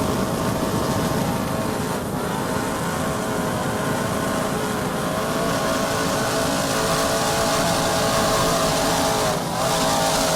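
A 44-foot Skater powerboat named Popeye racing in the Super V class at Key West, its twin 1,300-horsepower Sterling Performance inboards with MerCruiser drives roaring in a loud, steady, continuous drone.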